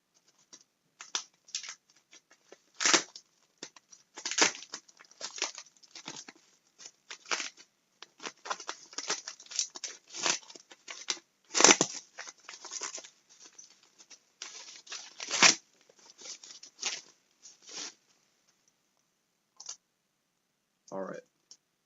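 A mail package is opened by hand: a run of close, sharp tearing and crinkling bursts in an otherwise quiet room, irregular and clustered, with a short pause before a final rustle.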